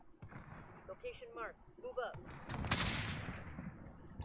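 Sniper rifle shots in Warzone crack under excited talk from players, followed by a loud, bright burst of gunfire near the end.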